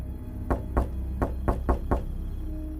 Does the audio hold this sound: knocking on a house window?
yes